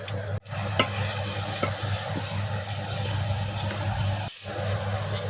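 Desi chicken cooking in a pot with fatty meat and a little oil, giving a steady close sizzle and frying hiss with occasional stirring scrapes and clinks, and a low background hum throughout.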